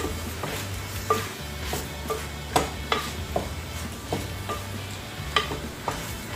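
Pork belly browning in a pan for adobo, a steady soft sizzle with occasional clicks and scrapes of stirring, moderately quiet and with no talk.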